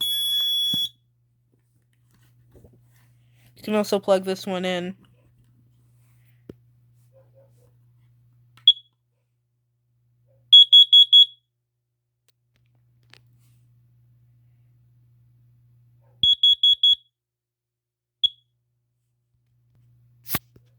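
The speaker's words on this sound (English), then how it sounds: "Here is my Garrison 46-0019-0 carbon monoxide alarm." A Garrison 46-0019-0 carbon monoxide alarm gives sharp, high electronic beeps in short separated groups, loud and close. Someone speaks briefly early on, and faint clicks fall between the beeps.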